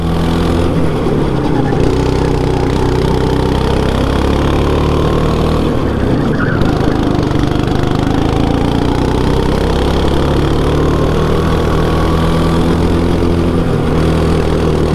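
Go-kart engine droning steadily on a racetrack in Guwahati, a loud, close and continuous motor whine with slight pitch shifts as the kart drives.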